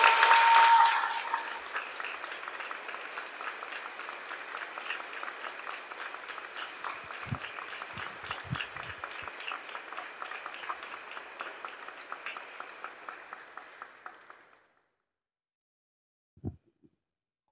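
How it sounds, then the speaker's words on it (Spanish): Sustained crowd applause for a priest at a pilgrims' arrival in Naolinco, Veracruz, steady and dense, carries on for about fourteen seconds before stopping abruptly, followed by a few faint thumps in the silence. "Un aplauso más fuerte todavía."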